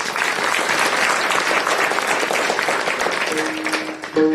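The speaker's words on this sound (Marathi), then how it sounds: "एकदा जोरदार सगळ्यांसाठी टाळ्या वाजवाव्या" A large crowd at a kirtan ceremony in Nipani claps in loud, dense, sustained applause that runs the full length without a break.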